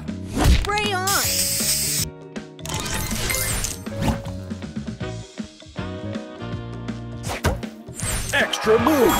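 Spray booster effect going off on the game board in Match Masters, a busy burst of hissing spray and bright chimes layered over game music and short jingles, loud and close throughout.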